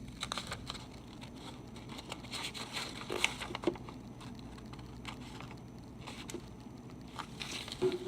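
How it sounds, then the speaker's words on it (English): Scissors cutting folded paper along the crease: a series of soft, close snips and paper crinkles in an irregular rhythm over a low background hum. "you flip it and cut the other side following the crease line"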